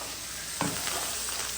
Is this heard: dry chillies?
yes